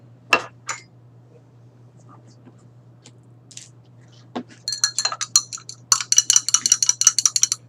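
A spoon stirs calcium carbonate into water in a glass, giving a run of quick, bright clinks close by that grows busier toward the end, after a few isolated taps in near silence.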